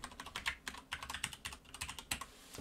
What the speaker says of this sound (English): And now you can just type it into a random email address.